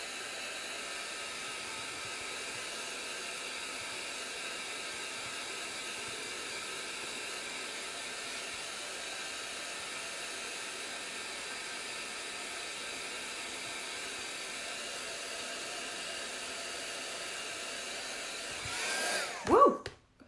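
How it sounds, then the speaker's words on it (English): A blow dryer runs steadily to dry chalk transfer ink on a Halloween or farmhouse decoration, a constant close-up whooshing hiss that lasts nearly the whole time before a brief bump and cutoff at the end. "You can just totally use a blow dryer."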